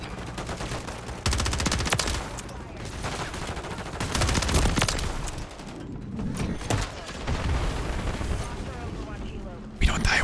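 Gunfire in Modern Warfare 3 with an HRM 9 submachine gun, dense rapid bursts and repeated shots throughout, loud and close, with a voice talking over the action.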